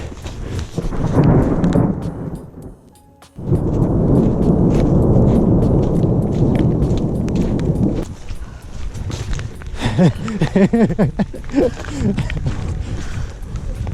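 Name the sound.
thunderstorm thunder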